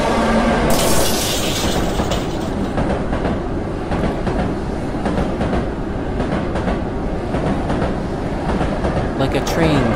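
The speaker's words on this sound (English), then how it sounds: "Like a train going right by me. A loud sound and impact." A train in the video game Tsugu No Hi rushes past close by, a loud, continuous roaring rumble with clattering and a sharp burst of impact near the start, dense and steady throughout.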